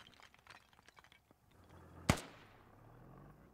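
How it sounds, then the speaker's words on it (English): A single sharp, loud mortar launch in Squad, a crack that trails into a low fading rumble after soft scattered background noise. "Those mortars going out."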